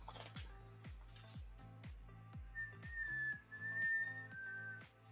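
A thin, steady whistle rises from a hand-blown glass memorial piece made with cremation ash, sustained for a couple of seconds over rhythmic, tonal thumps in the background.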